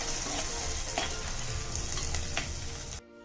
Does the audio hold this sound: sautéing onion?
yes